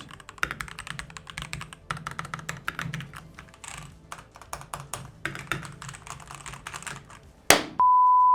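Rapid typing on a mechanical keyboard with lubed, non-clicky switches, dense irregular clicks and clacks close by, ending in a sharp thump followed by a steady beep tone.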